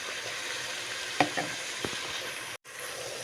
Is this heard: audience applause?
no